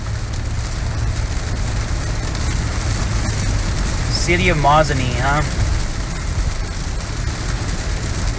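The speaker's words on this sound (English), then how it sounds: "Oh, this is just raining." Steady rain beats on a car during a derecho storm in Wisconsin, a constant broadband wash with engine rumble beneath, while someone speaks briefly midway.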